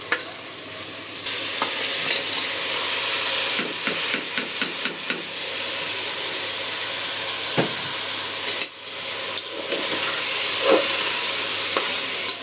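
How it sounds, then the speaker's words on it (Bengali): Frozen carrots, peas, cauliflower and scallions are stirred into spices frying in a pan for vegetable rice, giving a steady close sizzle with a sharp hiss when they hit and scraping stir strokes throughout, no talk. "এখানে গাজর কুচি, পেঁয়াজ পাতা, মটরশুঁটি, ফুলকপি, এগুলি হচ্ছে এখন আমি দিয়ে দিব এই মশলার ভিতরেই"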